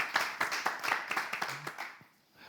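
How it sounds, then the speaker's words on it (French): Audience clapping, a small group giving a short burst of sharp, fairly rhythmic claps close by that thins out and fades to near quiet after about two seconds. "On va la raccompagner avec des applaudissements"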